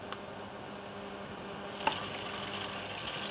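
Buffalo meat hits a hot pan and is stir fried, first a low, steady sizzle, then a louder, brighter hiss swells after a light clink, with faint stirring scrapes.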